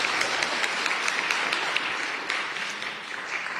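Audience applause at an international charity summit, a dense steady patter of many hands clapping together, fairly loud and continuous throughout, easing off slightly toward the end with no talking over it.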